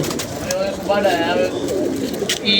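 Pigeons kept by a pigeon fancier coo in a low, steady murmur close by, with a person talking over them through most of the stretch.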